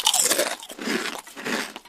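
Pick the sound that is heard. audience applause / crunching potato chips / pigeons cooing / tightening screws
crunching potato chips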